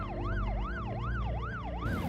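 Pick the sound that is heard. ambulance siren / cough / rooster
ambulance siren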